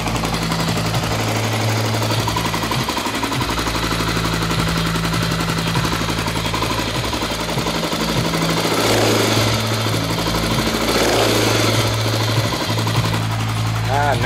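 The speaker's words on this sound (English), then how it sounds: "Yeah, it's a great running motor there." A Honda XR600R dirt bike engine runs steadily and loudly close by, a continuous rapid thumping idle throughout with people talking over it.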